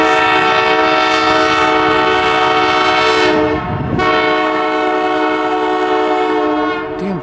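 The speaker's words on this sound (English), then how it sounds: "train couldn't be any louder." A loud train roars past nearby with a sustained, blaring horn, the blast briefly dipping and then resuming over the rumble of the cars.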